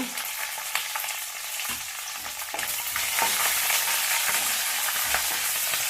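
Curry leaves, dried and green chillies and garlic fry in hot oil for tamarind rice, a dense close sizzle and crackle with occasional stirring scrapes that grows louder partway through, with no speech.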